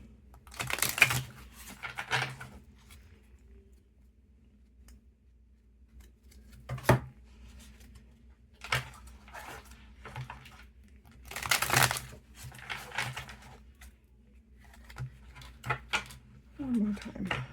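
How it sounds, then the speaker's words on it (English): Oversized tarot cards are shuffled in several separate bursts of crisp riffling and slapping, with quiet stretches between them and a voice speaking now and then. "I'm going to shuffle a couple of times."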